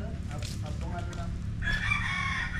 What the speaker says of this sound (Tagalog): Nagtataboy din siya ng manok.